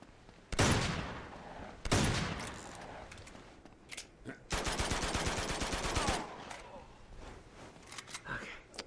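Gunfire in the video game Uncharted 2 during a 3 vs 3 deathmatch on The Sanctuary map, with two loud single shots followed by a fast, steady burst of automatic fire and scattered quieter shots, while a player talks over it.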